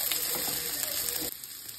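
Cabbage frying in a pan for fried rice, a bright close sizzle and crackle with a soft stirring scrape, cutting off abruptly partway through to leave only a quieter hiss.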